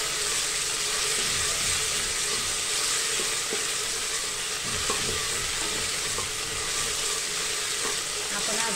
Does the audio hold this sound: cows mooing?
no